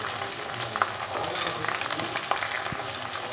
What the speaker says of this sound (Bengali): আদা রসুন বাটাটা দেওয়ার পর হিটটা মিডিয়ামে দিয়ে আমি 1 মিনিটের মতো একটু ফ্রাই করে নেব